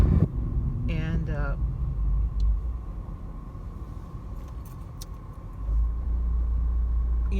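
A car driving along a road, heard from inside the cabin as a steady low rumble that continues throughout, with a brief chirping noise near the start.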